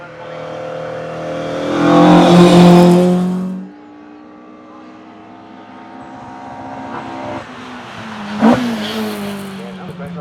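A hill climb race car in Venom bodywork revs hard and accelerates close by, its engine note climbing before it drops away. Further engine noise rises later as a commentator talks over the run.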